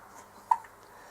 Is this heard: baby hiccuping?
yes